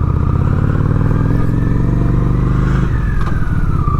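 A Honda Shadow 750 ACE motorcycle drones steadily while being ridden. The loud, low engine rumble runs throughout with a slight shift in pitch near the end and wind noise on top.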